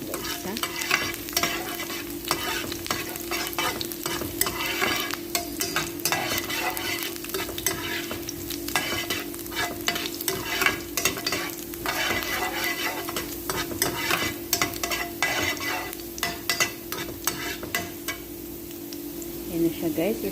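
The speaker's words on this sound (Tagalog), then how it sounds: "Halu-haluin lang natin hanggang sa mag-brown yung bawang guys, ha?" Garlic stirred as it fries in hot oil, a steady close sizzle with constant scraping and clinking from the utensil against the pan, running unbroken throughout.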